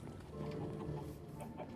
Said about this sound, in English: Why are there so many chickens in here?